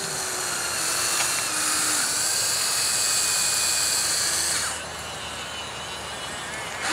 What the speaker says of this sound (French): le moteur électrique force un peu parce que quand on fait plusieurs actions en même temps, c'est normal